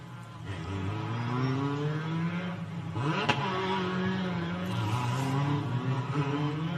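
Formula 4 race cars at the Macau Grand Prix circuit, engines revving and shifting with rising and falling pitch as several cars drone past at moderate distance.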